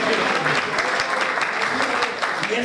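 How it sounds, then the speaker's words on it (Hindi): An audience at an oath ceremony and mushaira poetry gathering claps loudly and densely for the whole stretch, a close, continuous round of applause with a voice briefly heard beneath it. "आप जोरदार तालियां होनी चाहिए"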